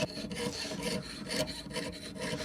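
A fine jewelry saw blade rasps back and forth through a workpiece in quick, steady strokes, close and fairly quiet with no voices.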